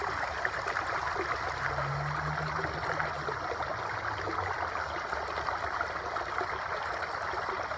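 Stream water rushing steadily through a Grizzly Gold Trap Explorer gold sluice, a constant close hiss and burble with a faint low gurgle and no voices.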